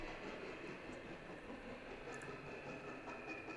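Freight train with Southern Pacific auto rack cars rolling past, a steady rumbling roar with a faint rail hiss, constant and fairly close with no talking.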